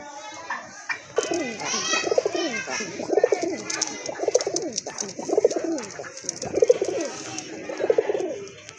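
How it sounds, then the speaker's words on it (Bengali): A pair of deep red pure Rasgolla pigeons, offered for sale, give repeated soft coos in a loose rhythm, with children's voices and chatter close by. "দেখার মতো এক জোড়া কবুতর কিন্তু আপনার"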